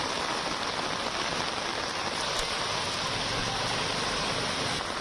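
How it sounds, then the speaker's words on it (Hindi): Torrential monsoon rain pours down as a dense, unbroken hiss, loud and steady for the whole stretch with no voices. "मूसलाधार बारिश का दौर यहां पर जारी है।"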